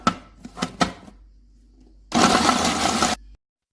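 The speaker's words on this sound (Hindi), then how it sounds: "ये मैंने चॉपर लिए, इसमें हम बिस्किट डालेंगे," Electric food chopper chopping biscuits: a few knocks and rattles while loading, then a loud, steady motor whir for about a second before it stops abruptly.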